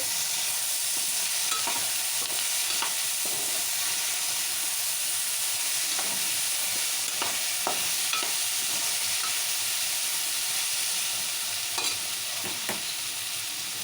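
Beans and potato curry being stirred in a pan over a medium flame, a steady close hiss of cooking with scattered scraping strokes of the spoon against the pan bottom, no voices.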